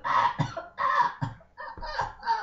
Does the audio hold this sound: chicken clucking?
yes